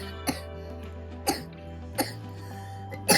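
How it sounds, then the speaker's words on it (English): A person with a cold coughs four times at roughly even intervals, each a short, sharp burst over a low steady background hum, with the last cough heavier and doubled. "Hold on, I'm coughing."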